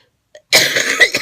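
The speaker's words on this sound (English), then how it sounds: "the coughing is not getting any better" A single harsh cough, close and loud, bursts out after a brief silence.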